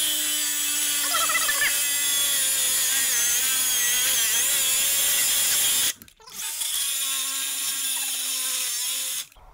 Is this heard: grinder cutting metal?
yes